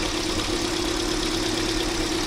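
A Hyundai Grand i10 engine runs steadily with a crankshaft knocking fault, giving a constant close mechanical drone with a rough, even hum and no pauses or voices.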